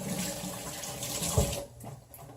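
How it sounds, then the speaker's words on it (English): Hands being washed under a running kitchen tap during meal prep, a steady broadband rush of water with splashing that thins out near the end, close and fairly loud, with no talking. "Wash my hands a little bit."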